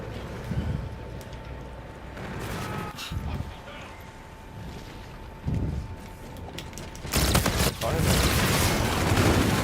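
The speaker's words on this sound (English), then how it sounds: "I'm literally shooting through this man laying on the ground just now." Rapid gunfire from akimbo shotguns in the first-person shooter Call of Duty: Infinite Warfare, bursts of shots clustered through the clip and loudest toward the end, mixed with other game noise.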